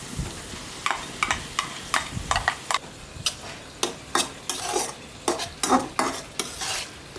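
Onion paste frying with ginger and garlic in a pan for egg curry, with a soft sizzle under repeated brisk scrapes and taps of a spatula, close and rhythmic, with no talking.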